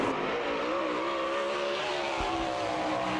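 A race car at an All Star Circuit of Champions dirt-track event in Lawrenceburg, Indiana holds full throttle, its engine a loud, unbroken high-pitched wail that never lifts.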